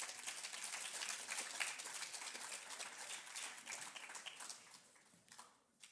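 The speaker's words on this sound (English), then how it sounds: "Give her a round of applause." Faint, steady clapping from an audience at a junior high academic awards ceremony, a round of applause for a student award recipient that tapers off near the end.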